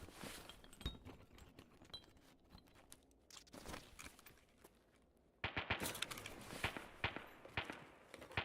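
Scavs in Escape from Tarkov fire rapidly in faint, distant bursts of crackling shots, scattered at first, then thickening into a denser volley in the second half, with no talk over it.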